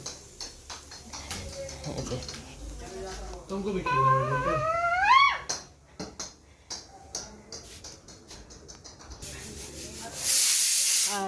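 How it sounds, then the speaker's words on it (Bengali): A pressure cooker cooking rice in a home kitchen lets out a short, loud burst of hissing steam at the end, after voices and clinking sounds. "প্রেশার কুকারে তুলতুলের বাবা আর ধানির জন্য ভাত হচ্ছে"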